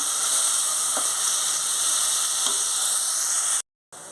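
Onion paste made from chopper-ground onions sizzles steadily in a pan, a dense continuous hiss with a couple of faint stirring clicks, broken by a brief dropout near the end.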